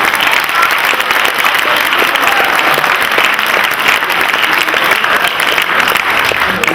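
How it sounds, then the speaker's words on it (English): Loud, steady applause from a large crowd at a college oratorical contest fills the space without a break. "And a bigger round of applause for the Bailey Oratorical Contest"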